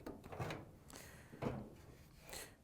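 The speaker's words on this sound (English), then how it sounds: "we can pull a panel forward just far enough so we have access to the door switch" A front panel on a Samsung dryer is pulled forward in a few soft, close scraping rubs and light knocks that come and go at low volume, with no one speaking.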